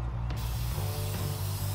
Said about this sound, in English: Where am I spraying? Where have I missed?